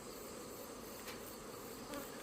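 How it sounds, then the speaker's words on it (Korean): Black hornets arriving at beehives, a steady dense buzzing of many insects close by, continuous and faint with no voices. "흑말벌이 들어오면 잘 보세요"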